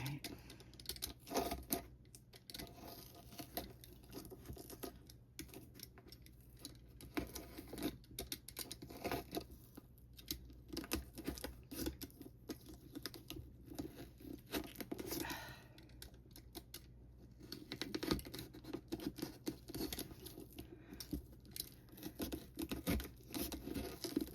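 Plastic being cut and ripped while shaping a curved case: steady close patter of snipping, crackling and tearing that runs continuously at low level with no talk.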